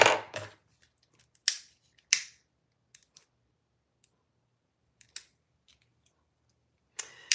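Scissors trim a cord with a few crisp snips and clicks spaced apart. The cuts are close and clear against near silence.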